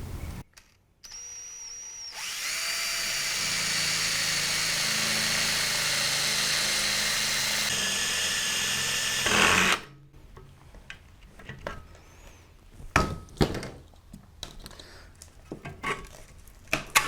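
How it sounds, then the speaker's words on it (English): Power drill boring out a rivet through metal plates on a 1987 Chevy R10 fuel system repair, a loud steady whirring grind for about seven seconds, then sharp clanks and taps of tools. "once I drill out the rest of the rivet"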